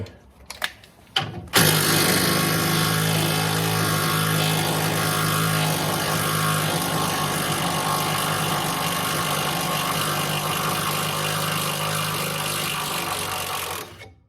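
A few clicks, then a power tool whirs up and winds out a very long bolt in one steady, loud, sustained drone that runs for about twelve seconds before cutting off.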